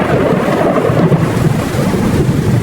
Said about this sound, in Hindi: ये अचानक इतनी तेज बारिश कहाँ से आ गई?